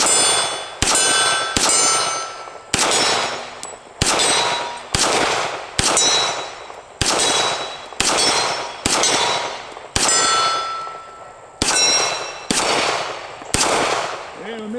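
A Beretta 92S pistol fires a steady string of about a dozen sharp shots, each followed by the bright ringing clang of a steel target, the metallic tone ringing out briefly before the next shot.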